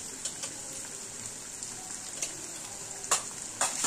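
Chicken dopiaza masala sizzles in a hot pan, a steady bright frying hiss with a few sharp spatters and crackles near the end.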